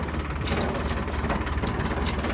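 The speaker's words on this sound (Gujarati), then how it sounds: "મિત્રો જોવો ટ્રેક્ટર છે ને એકલું એકલું જાય છે" An Eicher tractor engine runs steadily as the tractor moves along, a close, even diesel drone with a faint rhythmic knock underneath.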